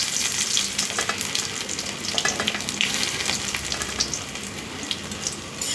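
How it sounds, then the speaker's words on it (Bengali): Chopped ginger fries in hot oil in a kadai, giving a steady dense sizzle with crackly pops and occasional stirring scrapes, close and continuous with no talking. "আদাটা একটু ভাজা ভাজা হোক"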